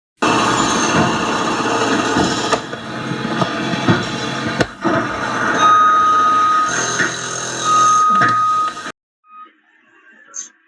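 Construction site noise rolls loud and continuous, with clanking impacts, grinding clatter and a brief high whine, then cuts off abruptly near the end, leaving near silence and a few faint knocks.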